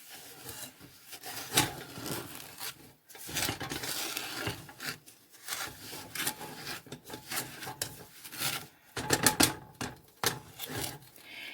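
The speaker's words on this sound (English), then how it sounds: "we're just going to keep stirring this, and it will dissolve the sugar." A bamboo spatula stirs a cup of sugar in a saucepan for a sweet rum sauce, giving repeated gritty scraping and rubbing strokes, close up, with short pauses between passes.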